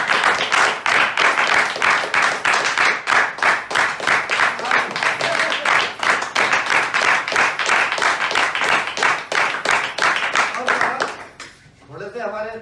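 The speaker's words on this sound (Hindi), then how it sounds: "तालियां बजाएंगे।" A roomful of people at a weekly meeting claps in unison with a strong, regular rhythm, each clap sharp and loud for about eleven seconds before it trails off and a voice begins speaking.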